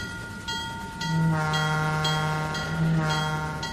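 A train bell clangs in a steady, evenly spaced rhythm over a sustained low horn-like tone and engine hum, fairly loud and close, in the Trainz 2019 train simulator game.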